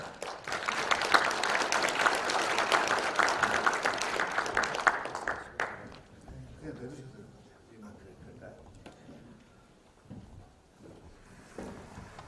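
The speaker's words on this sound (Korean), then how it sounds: "여러분들 커다란 박수 한번 부탁을 드리도록 하겠습니다" Audience applause at a trust-style redevelopment project briefing session: dense, loud clapping for about five seconds, then a speaker's voice taking over as the clapping fades.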